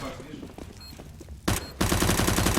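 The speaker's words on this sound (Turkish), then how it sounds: "Eril Dubstep'i vurdu bu arada." Gunfire in the game CS:GO arrives as dense bursts of rapid shots, loud and close, growing heavier toward the end while a Turkish commentator talks over it.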